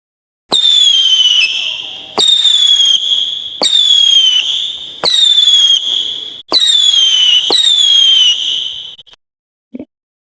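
A six-shot consumer fireworks cake from a TNT Fireworks Thunder Buster assortment, with Saturn missile effects: six loud whistling shots, each rising shriek cut by a crackling pop, spaced about 1.5 seconds apart, heard from nearby outdoors.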